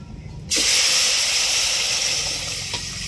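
A sudden loud hiss and sizzle bursts out as boiled lentils are poured into a hot pan, then continues steadily, close and loud with no talk.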